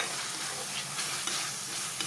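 Food sizzles steadily in a frying pan while being stirred, a dense, continuous crackle of frying heard up close for a couple of seconds with no voices.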